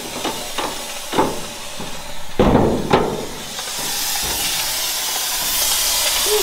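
A broad, steady hiss of steam escaping from a car engine grows and fills the scene, with a few sharp clanks and knocks early on and no talking.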